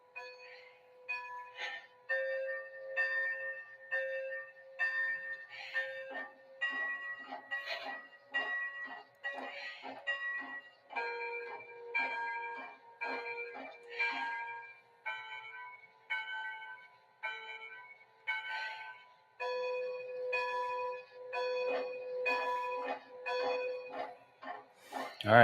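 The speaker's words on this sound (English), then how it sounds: "you can tell that it has a very unique cadence to it with the mechanical swinging bell" The mechanical swinging bell of Strasburg 90 steam locomotive rings in a steady rhythmic cadence of repeated strikes, shifting through several pitch levels, clear and alone against a quiet background.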